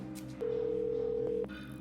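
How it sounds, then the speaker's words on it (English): A phone places a call, giving a single steady electronic tone about a second long, clear and close, over faint background hum. "I pull out my phone and call Tabitha."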